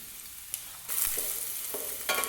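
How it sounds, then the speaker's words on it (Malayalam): Chopped onion drops into hot coconut oil in a pan, and a faint sizzle swells into louder, steady frying with a few quick stirring scrapes, without speech. "വെളിച്ചെണ്ണ ചൂടായി വന്ന് അതിലേക്ക് അരിഞ്ഞു വെച്ച് സവാള ചേർത്ത് കൊടുക്കാം."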